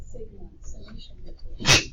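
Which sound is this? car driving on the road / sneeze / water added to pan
sneeze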